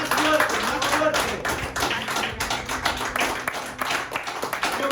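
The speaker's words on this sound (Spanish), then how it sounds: "Vamos, dale un aplauso al Señor Dios." Church congregation clapping together in praise, a dense, steady patter of many hands that carries on throughout, with a voice shouting encouragement over it.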